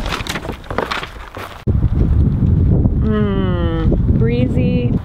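Gusty wind at a lake buffets the microphone in loud, rough bursts, continuing as a steady low rumble while a person speaks briefly over it.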